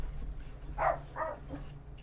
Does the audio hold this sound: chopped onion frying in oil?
no